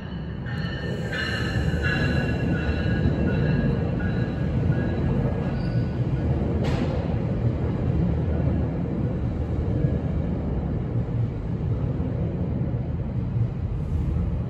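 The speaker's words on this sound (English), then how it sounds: "Here comes the westbound Go train on track 1." A westbound GO Transit commuter train with an MP40 locomotive and cab cars passes on track 1, its loud rolling rumble filling the whole stretch, with brief high wheel squeals and a horn-like tone near the start.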